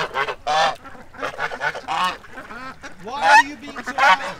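Domestic ducks quack in rapid, overlapping bursts at close range while a goose honks loudly among them, the calls coming in choppy clusters with short pauses between.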